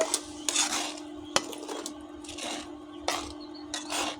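Broiler chicken being stirred with salt and turmeric in a pan, a series of close metallic scrapes and clinks from a utensil against the pan in irregular bursts over a faint steady hum.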